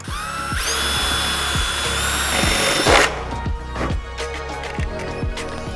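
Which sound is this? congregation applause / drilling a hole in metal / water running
drilling a hole in metal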